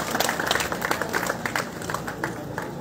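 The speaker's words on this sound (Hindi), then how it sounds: "स्वागत करें हम जोरदार तालियों से" A crowd at a Shiv Sena society meeting in Silvassa claps to welcome a guest. The dense, moderately quiet applause lasts about three seconds.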